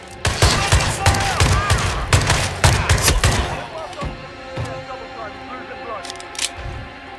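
Rapid bursts of gunfire in Hitman 3, dense and loud for the first few seconds, then thinning to scattered shots and thuds, with voices talking over the shooting.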